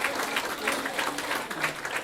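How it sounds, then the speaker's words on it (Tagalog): An audience at a seminar event claps continuously, a dense, steady burst of applause with a few louder swells, heard alone without speech. "Milyong-milyong palakpak for Mr. Randy Atienza."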